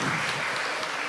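A crowd claps in sustained, dense applause for a church choir at a festival, filling the space evenly.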